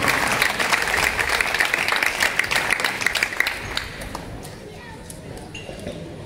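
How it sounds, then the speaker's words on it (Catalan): An audience claps steadily in a lively round of applause that gradually thins and fades toward the end, with some voices mixed in. "Un aplaudiment."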